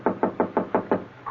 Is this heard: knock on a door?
yes